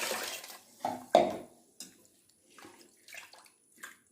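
Water is poured into a cooking pot for kanji in short splashy bursts, with one louder slosh and a clink of metal, close and clear with no talking.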